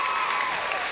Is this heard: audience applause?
yes